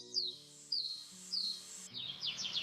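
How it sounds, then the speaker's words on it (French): Birds chirping outdoors on a walk past a fountain in a park, repeated bright descending tweets in short phrases, light and moderately close, over a steady background hum. "Des oiseaux chantent."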